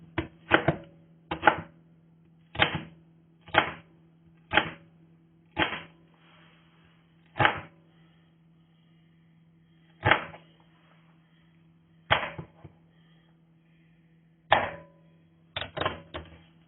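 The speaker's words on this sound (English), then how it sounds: "You sure tell a real Vidalia when you start cutting it up, can't you?" Knife chopping through a sweet Vidalia onion on a cutting board for tomato coleslaw, a series of sharp, crisp thuds in uneven bursts with pauses between, close and loud against a steady low hum.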